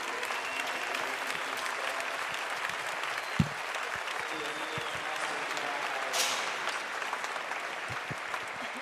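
A crowd at a bull riding event applauds in a steady, distant wash of clapping that lasts throughout, with one sharp thump partway through.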